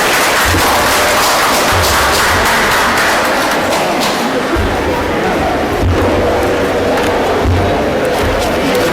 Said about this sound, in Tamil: இரு கரகோஷம் எழுப்பி வரவேற்கிறோம்